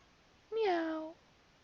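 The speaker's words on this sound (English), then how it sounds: "Oh, hi, kitty cat." Pet cat meowing indoors: a single short, clear meow rising then falling, fairly quiet and close, alone against faint background.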